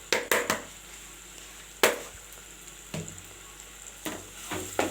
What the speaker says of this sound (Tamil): நல்லா மிக்ஸ் பண்ணிடணும்